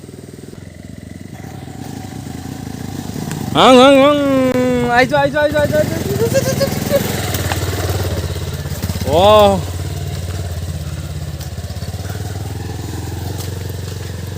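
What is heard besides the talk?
motorcycle engine straining uphill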